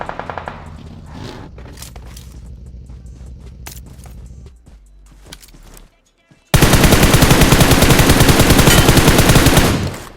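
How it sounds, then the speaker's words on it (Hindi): Gunfire from a battle royale video game: scattered shots and clicks at first, a short lull, then a long, loud, rapid automatic burst that fills the final seconds. "मैं जैसे ही जा रहा था तभी इस बंदे ने फायर दिया।"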